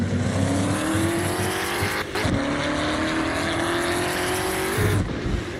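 A 4GT American muscle car driven in the Assetto Corsa racing game, its loud engine droning and climbing steadily in pitch, with two brief drops in sound at gear shifts. The engine runs continuously, close and alone.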